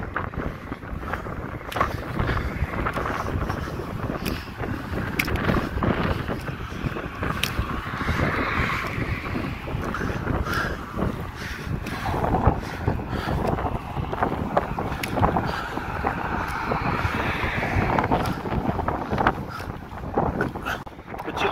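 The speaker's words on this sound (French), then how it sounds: "Pour vous dire qu'il y a quand même du vent." Steady wind gusts buffet the microphone by the sea on Île de Ré, a loud rumbling roar that swells and eases throughout with faint background texture and no clear speech.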